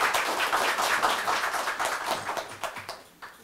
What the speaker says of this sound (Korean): 모두 박수로 신경식 회장님을 오시기 바랍니다.